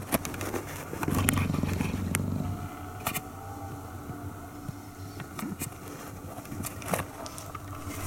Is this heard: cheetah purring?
yes